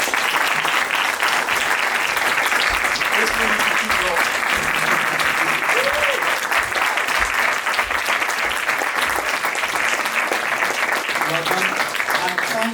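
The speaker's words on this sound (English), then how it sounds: "Keep that applause going." Sustained, dense applause from a large audience fills a press conference at the BFI London Film Festival for the film Call Me By Your Name, steady and loud throughout with no gaps.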